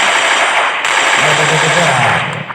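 Rapid gunfire from a video game match during a mini tournament, dense bursts of shots running continuously under a steady wash of game noise, with a commentator's voice faintly present.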